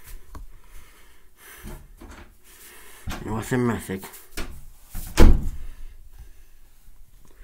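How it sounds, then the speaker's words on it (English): A bathroom door pushed shut with a single wooden thunk midway, surrounded by people talking before and after. "I'm gonna shut this door."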